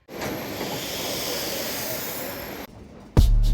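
Steady broadband rumble and hiss of a moving suburban train near Vladivostok, Primorye, Russia, continuous for several seconds, followed by a brief quieter patch and a sudden louder low rumble.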